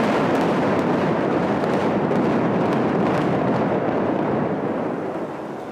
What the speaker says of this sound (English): So with the area cleared and high-tech explosives in place, at 8:30 in the morning, the countdown began.